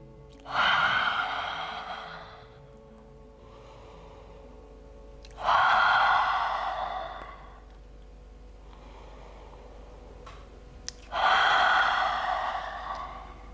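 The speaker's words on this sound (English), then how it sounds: "let's take 3 exhalations through the mouth, and as you do so, stick out your tongue, ha out the breath." Three strong breaths exhaled through the open mouth with the tongue out during a yoga flow, each a long breathy 'ha' lasting about two seconds, spaced several seconds apart with quiet between.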